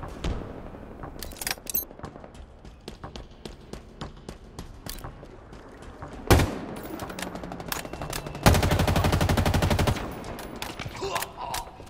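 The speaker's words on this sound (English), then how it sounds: "Taking fire." Automatic gunfire from the video game Halo, heard as steady, rapid rounds throughout, with a sharp blast partway through and a louder sustained burst of fire near the end.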